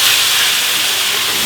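Rum poured into a hot pan for flambé, a loud sudden burst of hissing steam and sizzle that fills the whole short moment.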